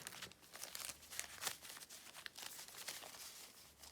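A small paper packet decorated with hearts, part of a handmade paper surprise set, crinkles and rustles as it is handled up close, with a steady run of soft crackles and a few sharper crunches.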